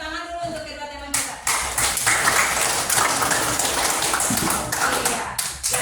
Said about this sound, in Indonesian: kita tepuk tangan dulu untuk kedua teman kita